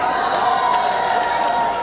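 Sustained applause from an outdoor festival concert audience at the Goryeong Melving Festival, a steady, dense wash of clapping holding evenly throughout at moderate loudness.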